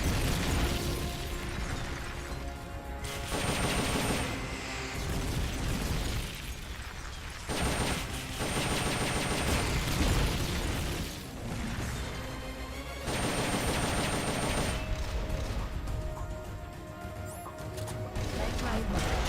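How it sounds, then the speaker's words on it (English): Rocket launcher fire and heavy explosions in the Metal Gear Peace Walker video game, a long dense barrage of booming blasts and mechanical clatter with brief lulls between bursts. "Firing rocket launcher."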